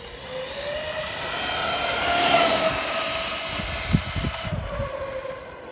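A DHK Maximus 4S RC car on Zombie tires with a 17-tooth pinion and locked center diff screams past at full throttle, a high rising motor whine that swells as it nears and fades away, with rattling near the end.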